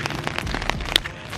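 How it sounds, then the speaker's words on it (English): Steady rain falls outdoors, a dense hiss with scattered drops pattering on a surface, brief and moderately loud. "it's still raining"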